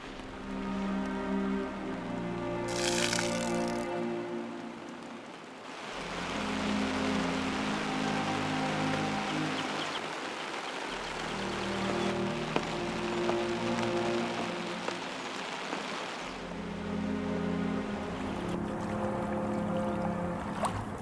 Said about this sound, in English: As soon as we found a spot for the night, the rain started.